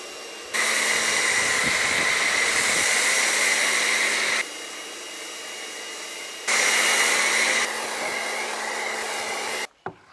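A pressure washer snow foam lance sprays foam on a car, hissing in steady bursts, starting and stopping, with the spray dropping to a quieter rush between louder blasts.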